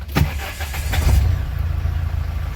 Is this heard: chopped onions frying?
no